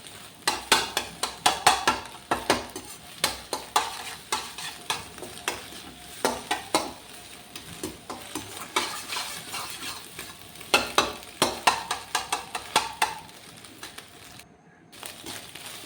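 Egg fried rice with pepper powder tossed in a pan: a spatula clacks and scrapes against the metal in quick repeated strokes, close and crisp, with a faint sizzle underneath and a short pause near the end.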